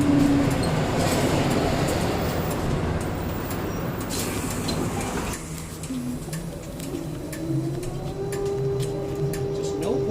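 Trolley bus passing an insulator in an overhead wire switch: a rumbling interior drone that abruptly drops away midway, with clicks and a thin whine afterward and occasional voices.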